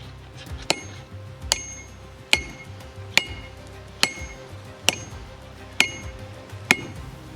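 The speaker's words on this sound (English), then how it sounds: "I'm gonna switch to hand hammer." A hand hammer strikes hot steel while forging a stake anvil, at a steady, unhurried pace, about nine sharp ringing blows with clear metallic pings between them.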